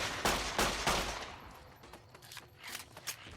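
Rapid pistol fire from Fallout New Vegas, several sharp loud shots in quick succession up front, then fainter scattered gunfire and impacts trailing off.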